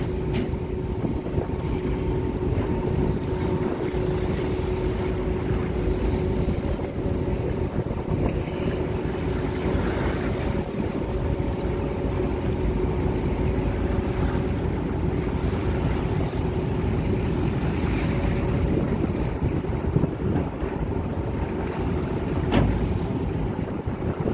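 Steady low rumble of a barge engine with rushing water and wind noise, continuous and fairly loud throughout, as sea waves wash against the moving vessel.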